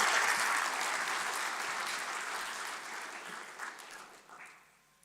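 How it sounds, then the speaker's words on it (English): Audience applause at the opening ceremony of the ATIDI 2025 annual general meeting, a broad clatter of many hands that starts full and gradually thins, fading out near the end. "Another big round of applause, please"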